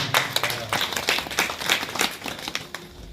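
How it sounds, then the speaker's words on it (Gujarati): A small audience at a live devotional satsang claps for the tabla and banjo players, with scattered, uneven handclaps close by that rise and fall over a few seconds, with no voices. "તબલા વાદક અને બેંજા વાદક, એ બંને મિત્રોને આપણે તાળીથી વધાવીએ"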